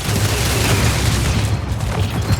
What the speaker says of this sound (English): Its prime ability is Search and Destroy, which activates shoulder-mounted missile pods that fire heat-seeking missiles